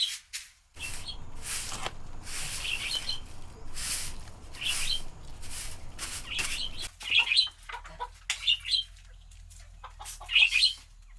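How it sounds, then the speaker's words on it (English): Chickens in a rural Bangladeshi yard cluck and chirp in short bursts after being let out of their cage, with faint flapping and rustling over steady background ambience. "then lets her chickens out of their cage"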